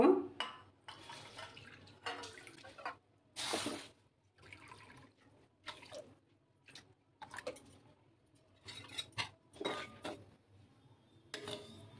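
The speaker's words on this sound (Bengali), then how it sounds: "এবার আমি এই বাটি মেপে জল দিয়ে দেব।" A measured bowl of water is poured into a pan to make sugar syrup for semolina rosgulla, heard as intermittent splashes and drips with clinks of bowl and pan, and quiet gaps in between.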